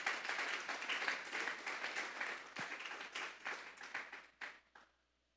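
A church congregation gives the Lord a loud round of applause, dense clapping rolling steadily for several seconds, thinning into scattered claps and then stopping.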